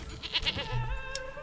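Goats bleat briefly in the medieval village-building game Manor Lords, a couple of faint, short calls over a soft ambient background with no voices.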